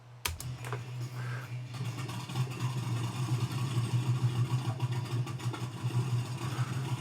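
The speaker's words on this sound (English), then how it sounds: "we're hearing the engines roar" Engines roar as a steady, droning rumble that builds slightly over several seconds, with sharp clicks at the start and a faint layer of music beneath.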